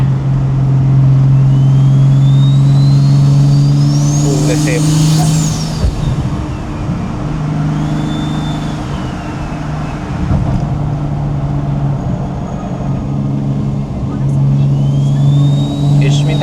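A Nissan Stagea RS Four S turbo wagon, driven in Yokohama, runs loud and close with a steady low engine drone, rising and easing with turbo whistles, and a brief remark from an occupant.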